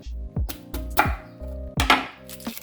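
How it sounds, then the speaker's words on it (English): A few knife strokes chop through an onion on a board, close by, with low tonal humming sounds between the cuts. "So we're gonna chop another onion."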